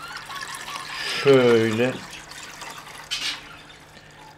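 Water poured slowly into a small My Fun Fish aquarium makes a soft, close trickle and splash that rises and fades within a few seconds, with a brief spoken word in the middle.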